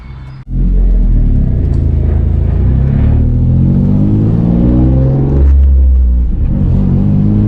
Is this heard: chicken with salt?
no